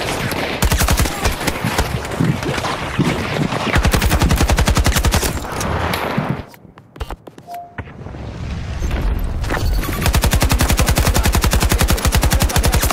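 An AK-24 assault rifle fires in Battlefield 2042, with long, rapid automatic bursts, loud and close, a brief gap, then more sustained fire.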